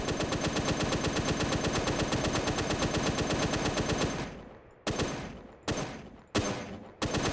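A machine gun in ArmA 3 with the IFA mod fires in a long, rapid, unbroken burst for about four seconds. A few separate heavy shots follow, each trailing off into a decaying echo. No voices are heard.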